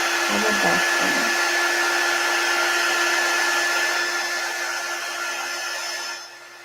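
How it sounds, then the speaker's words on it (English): A handheld heat tool blows a steady, loud, whooshing roar while warming wax on a paper bag autumn wreath, holding even for several seconds before the tone drops slightly at the end. "I'm going to heat these up just a little bit with my heat tool"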